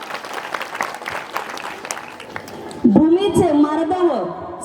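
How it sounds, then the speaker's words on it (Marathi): A crowd at a congratulation ceremony for a state exam topper claps loudly and steadily for a few seconds, then a voice takes over over fading, scattered clapping. "एकदा जोरात टाळ्या वाजवा"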